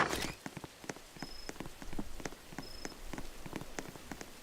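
Acid rain in the Roblox game Altered Reality patters in irregular, quiet taps, a faint pitter-patter of drops hitting a surface with a couple of tiny high chimes.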